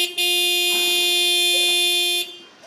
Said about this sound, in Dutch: Als zij te lang op haar baasje moet wachten, drukt ze gewoon de toeter in.